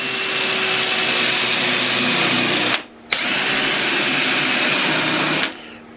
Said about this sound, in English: Now we've made a mark with the big drill